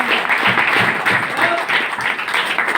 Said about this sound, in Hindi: Mister S D Verma sir के लिए मैं जोरदार ताली चाहूंगा।